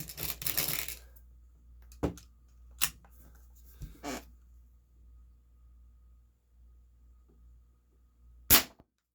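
Daisy Powerline 822 .22 caliber air gun fired: a burst of handling clatter, then several sharp, close, isolated cracks spaced a couple of seconds apart, with near silence between them and no talking.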